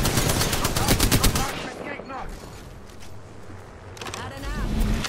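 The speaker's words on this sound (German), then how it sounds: "Stümper schießt auf mich." Rapid automatic gunfire in Apex Legends, loud close bursts of shots at the start and again near the end, with a player talking between them.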